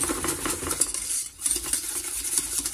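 A utensil stirs lemon cream continuously in a pan set on a hob that has been switched off, giving a close, steady scraping and light clinking of metal against the pan.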